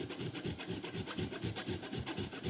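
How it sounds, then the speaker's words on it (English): Cheese grated on a fine grater makes a close, steady rasping, with quick rhythmic back-and-forth strokes repeating evenly, alone and fairly soft. "So to grate my cheese, I'm going to put my fine grater in this position"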